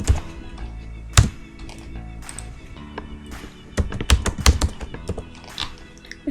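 A computer keyboard being typed on while filling in a web form, with clustered key clicks arriving in short uneven bursts at close range and no talking.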